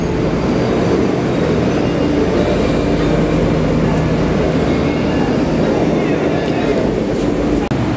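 A train running steadily on its way toward a university station, a loud continuous rumble and rattle of carriages filling the whole stretch with no clear talk.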